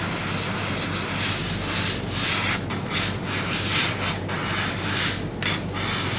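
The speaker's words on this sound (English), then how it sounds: "When airbrushing, make sure you don't stay on one place like this, because it's gonna collect some paints on it and it's gonna drip." Airbrush spraying paint onto a Bandai Spirits Petit Rise Gilgamesh model kit, a steady close hiss running throughout with a few brief dips where the spray pauses.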